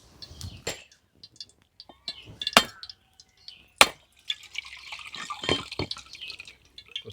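A coconut is struck open with a few sharp, hard knocks spread over several seconds, followed by light splashing and dripping as water runs out, close and fairly quiet.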